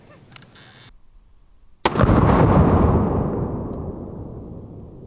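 A single loud Chiappa Rhino revolver shot fired in single action, a sharp close blast with a rumbling decay lasting a few seconds, after a brief click and quiet.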